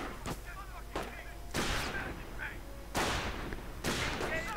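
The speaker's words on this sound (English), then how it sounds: "coming under fire from some Panzer Grenadiers with their Gewehr 43s" Gewehr 43 rifles fire in a World War II video game battle, with several sharp shots spread across a few seconds against a steady backdrop of game noise.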